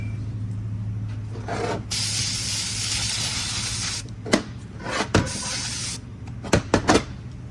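Aerosol brake cleaner hisses from a can during an 8L60 transmission rebuild, one long close spray of about two seconds, then a shorter burst, followed by a few sharp knocks and clatters, with no talking.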